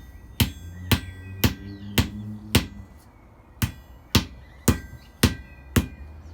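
A blacksmith's hammer striking hot metal on an anvil eleven times in a steady rhythm with a short pause midway. The blows are loud, close and ringing.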